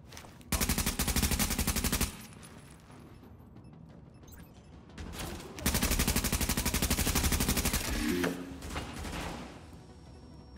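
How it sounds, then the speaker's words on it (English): Bursts of rapid automatic enemy gunfire in The Division, two long sustained volleys with a quieter gap between and scattered shots after, loud and fairly close. "Oh, he's shooting now, is he?"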